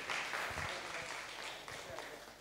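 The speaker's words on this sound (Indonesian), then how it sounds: "Tepuk tangan dong." A seminar audience gives a short round of applause, scattered clapping from a modest crowd heard at a distance and fairly faint, with some voices mixed in.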